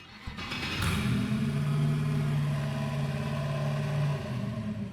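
A 2013 Gumpert Apollo Enrage engine in the racing game Driving Empire fires up with a sharp starter burst, then settles into a loud, steady, droning idle that holds for several seconds before easing slightly.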